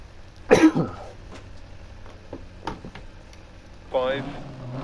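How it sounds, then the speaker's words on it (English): A person coughs once loudly near the start, a short harsh burst, with faint noises afterwards and a brief tonal vocal sound near the end, over a low steady hum, inside a room while setting up a DiRT Rally Opel Manta 400. "This cough has lasted like 3 weeks now."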